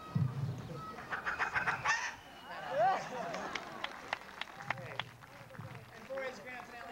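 A person vocally imitates a chicken with squawking, honking fowl-like cries that rise and break, mixed with bursts of talk and some laughter nearby.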